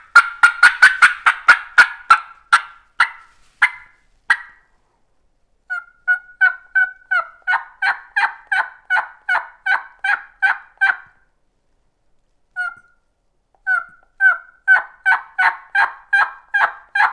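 A turkey call imitates a hen turkey's yelping: quick, loud runs of raspy yelps come close and alone, broken by short pauses, with one isolated single-note yelp in the middle.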